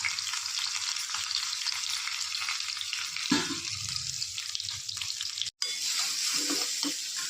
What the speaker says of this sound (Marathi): आता तेल तापलेलं आहे, त्याच्यामध्ये आपण मसाला जो वाटून घेतला ते टाकायचा आहे।